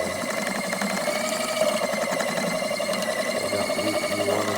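A drain snake machine feeds its cable down a clogged sink drain, a continuous mechanical whir and rattle with a steady motor drone, close and unbroken throughout.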